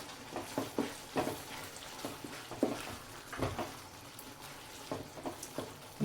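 Milk and white beaten rice (aval) stirred together in a pan, a soft wet sloshing with a series of irregular spoon strokes and faint clinks, fairly quiet and close.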